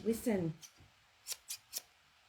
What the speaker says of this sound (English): get a load of these scissors. I love that noise